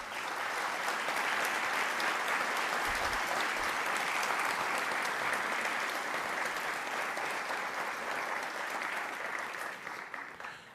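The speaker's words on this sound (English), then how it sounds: "Please give Mr. Harden a round of applause." A large audience at a defense department disability awards ceremony gives a sustained round of applause, dense and steady for about ten seconds before thinning out at the end.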